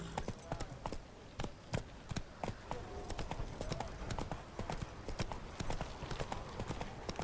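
Rapid, close hoofbeats from Roach, the horse in The Witcher 3, galloping in an uneven clip-clop rhythm, with a faint whinny and speech blended into the busy game mix.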